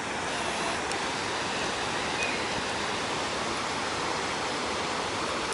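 A medium-sized waterfall in Stockport pours in a steady, dense roar of rushing water, close and unbroken, with no voices.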